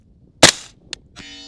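An AR rifle with a Griffin Mk2 11.5 inch barrel fires IMI 77 grain ammunition from a tripod at a 420 yard line. One loud, sharp shot rings out, then a brief second crack and a sustained ringing tone.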